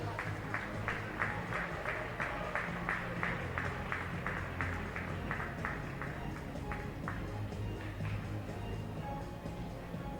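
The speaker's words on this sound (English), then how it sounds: "a round of applause for your medal winners" Steady rhythmic clapping from a crowd at a para-swimming meet's medal ceremony, even beats carrying on for several seconds over a pool hall's low hum before thinning out.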